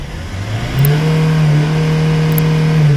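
A Hyundai diesel car engine (Verna/Accent/Xcent/i20) with injector fault codes revs up from idle, its pitch climbing after a moment and then holding a steady, loud high-revving drone above 3000 rpm.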